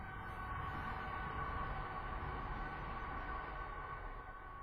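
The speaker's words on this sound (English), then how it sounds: "Sorry about the trains." A train passes steadily, a constant broad rumble with a sustained tonal hum, fairly loud and unbroken throughout, with no voices.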